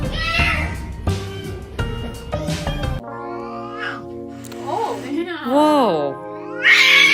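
A cat meows several times up close, drawn-out rising and falling cries, over soft background music, with no talking.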